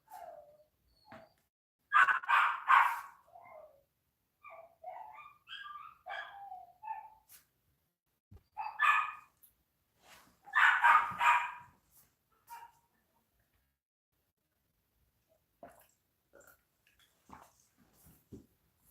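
A large dog barks in the background in short clustered bursts with long quiet gaps, muffled and distant, its calls hoarse and somewhat turkey-like.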